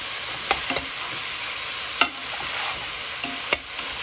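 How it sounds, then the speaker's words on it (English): Fresh salmon and zucchini being stir-fried in a pan: a steady soft sizzle runs throughout, broken by a few sharp scraping clicks of the utensil at irregular moments, close and moderately loud with no talking. "Give it a quick stir fry"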